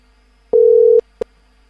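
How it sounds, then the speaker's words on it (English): Telephone busy signal on a call that won't connect: one steady half-second tone, then after a short gap a brief second beep, loud and clear with no talk over it. "Phone call not going through."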